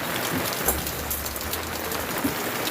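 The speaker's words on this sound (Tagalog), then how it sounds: "lumalakas na talaga yung patak ng ulan" Heavy rain pours down steadily at a house, a dense continuous hiss with scattered drop impacts and a low rumble underneath. No one talks.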